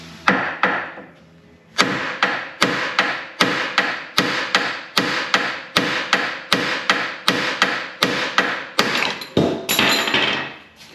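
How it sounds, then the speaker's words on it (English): A hammer strikes a Jeep XJ track bar during a Metalcloak 3.5 lift install, delivering a rapid, steady series of sharp metallic blows, close and loud, after a short quiet opening. "we'll hit this with a hammer right about here, and that shock should make this track bar fall out"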